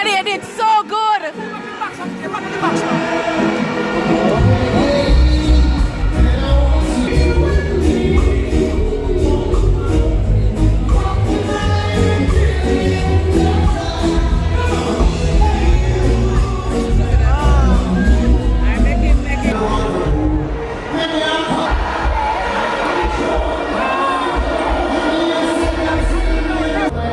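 A live performance audience cheers, whoops and shouts loudly over pounding music for most of the stretch, with the crowd noise dipping briefly before swelling again.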